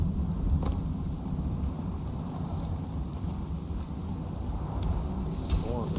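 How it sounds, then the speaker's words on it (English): Stormy wind in the survival game Icarus roars as a continuous loud rush with deep rumbling, steady and enveloping throughout. "This storm is going to get annoying really quick."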